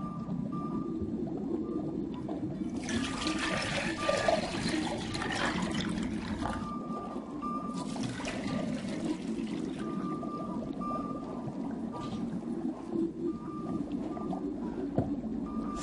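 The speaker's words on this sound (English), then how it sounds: "Now I'm going to put the water that we displaced earlier on the other side." Displaced water is poured onto one side of a balance scale in two splashy bursts, each trickling off, while a faint intermittent beeping sounds in the background.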